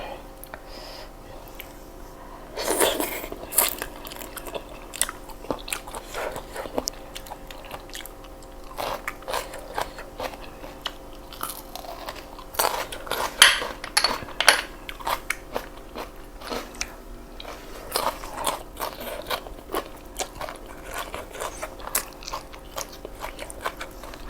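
Close, crunchy bites and chewing of shrimp marinated in fish sauce, irregular bursts of crackly mastication repeating over a quiet room background.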